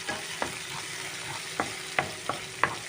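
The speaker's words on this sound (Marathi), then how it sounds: "गार्लीक आनी जिंजर घालपाचें मातशें बरें भाजून घेतलें" Garlic and ginger fry in a pan with a steady close sizzle, broken by several sharp scraping taps of a spoon stirring against the pan.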